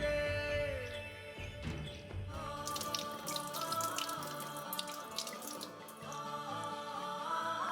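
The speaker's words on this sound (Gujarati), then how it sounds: "આપણે 1/4 કપ જેટલી અડદની દાળ લીધી છે. એને ધોઈ લઈએ." Urad dal being washed under a running kitchen tap, with steady water splashing and trickling into a sink, loud and close, with small clinks from the bowl throughout and no talking.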